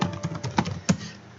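Keys tapped on a computer keyboard while entering a Linux command under Windows Subsystem for Linux, a short run of light clicks with a couple of louder strokes, close and quiet.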